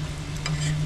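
A stir-fry being mixed in a pan inside a van, with a steady close sizzle broken by a few brief scraping stirs.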